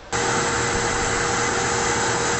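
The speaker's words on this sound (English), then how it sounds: "Lisa uses a vacuum attached to her tools to whisk away any vapors or nail debris" A vacuum attached to a nail technician's tools in a salon switches on and runs, a loud steady whooshing whine that holds constant after a brief start, with nothing else heard.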